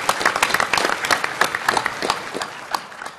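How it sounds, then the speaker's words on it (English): An audience at an army talent-management panel gives a round of applause for the guest panelists, a dense, steady burst of many hands clapping that fades slightly toward the end. "Hey, some applause for our guest panelists."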